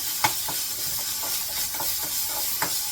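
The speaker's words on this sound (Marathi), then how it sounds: "आता कांदा थोडा परतून घेतो पहिला" Chopped onion sautés with cumin, curry leaves and garlic in a pan, giving a steady close sizzle and hiss broken by a few soft stirring scrapes.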